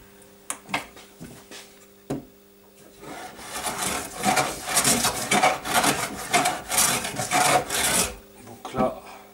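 RALI hand plane shaving wood, a quiet opening of scattered knocks and short scrapes, then a long run of rhythmic rasping strokes that grow louder and more forceful before fading to a few final taps.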